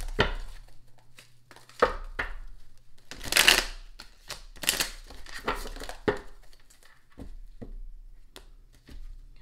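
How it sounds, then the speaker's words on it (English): Tarot cards are shuffled by hand in several separate bursts of riffling and flapping, each a quick crisp flurry with quiet pauses between, close up. "I gotta mix these cards up real good because if not, sometimes the same cards will come out"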